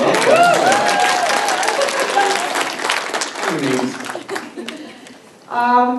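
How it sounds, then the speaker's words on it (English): Audience applause and cheering break out at a reunion panel for the Degrassi cast, dense clapping filling the room with a voice talking over it at first, then fading before a short spoken line near the end. "Round of applause for Steph."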